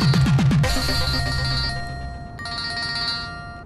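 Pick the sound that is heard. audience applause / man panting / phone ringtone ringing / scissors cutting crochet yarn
phone ringtone ringing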